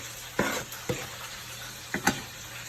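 Butter, hot sauce and honey stirred together in a pan under a quiet sizzle, with a few distinct spoon scrapes and clinks at irregular intervals, close by and without talk.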